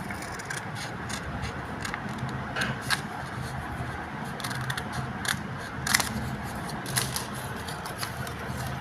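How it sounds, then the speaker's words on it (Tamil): Scissors snip through blouse fabric along the curved back piece in a string of short, crisp, close cuts over a faint background hum. "அதே மாதிரி தைக்கிறது இந்த பின்னால் வளைவு பார்த்து நம்ம இப்படி வெட்டிக்கிறோம்"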